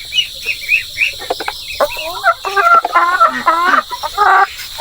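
Heritage chickens cluck repeatedly and close by, in a run of short, irregular calls that grow busier and louder toward the end, with no voices.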